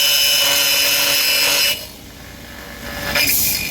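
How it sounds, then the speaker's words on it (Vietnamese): Milling a drainage hole in an aluminium door profile: a loud, steady high-pitched whine of the cutter biting metal, dropping off briefly midway, then surging again near the end. "Phay xem nó thế nào."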